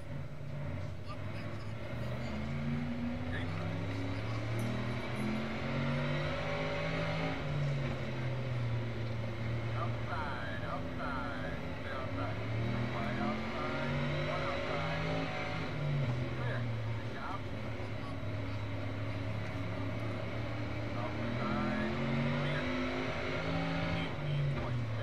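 Race car engines revving and accelerating at the green flag at Lernerville Speedway, with rising and falling tonal whines from several cars, moderately distant and steady, while a voice talks over much of it.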